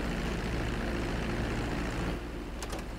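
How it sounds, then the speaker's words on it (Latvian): Airplane in GTA 5 touching down at an airport, a steady loud engine drone with low propeller hum that eases off after a couple of seconds, followed by a few brief high clicks. "Uz kaut kādu lidostu nosēdinājām šo lidmašīnu."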